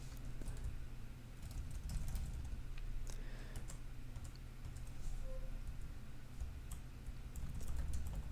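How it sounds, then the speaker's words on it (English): Rapid, uneven clatter of fingers tapping keys on a computer keyboard, continuous over a low steady background hum, fairly close and moderately loud. "I'm pressing keys and it hasn't crashed"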